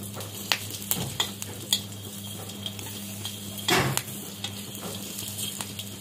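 Chillies and tomatoes roast on a hot griddle, with a steady low sizzle and occasional scraping and clinks of a utensil against the pan, no talking.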